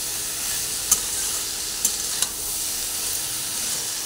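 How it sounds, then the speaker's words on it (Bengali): Carrot and capsicum curry with raisins fries in a pan after salt goes in, a steady bright sizzle and hiss with a few light clicks from a stirring spoon, close and continuous. "নুনটা দিয়ে দেওয়ার পরে আবার একটু ভালোভাবে নাড়াচাড়া করে করে নুন সব সবজিটার মধ্যে মিশিয়ে দিচ্ছি"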